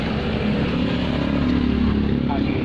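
A flood-damaged 2014 Suzuki APV engine runs at a steady, close, even idle, a continuous mechanical hum with no breaks.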